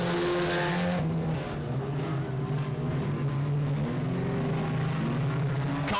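Race cars at 67 Speedway roar side by side into turn three, their engines droning loudly and steadily, with pitch shifting as the cars sweep through the corner.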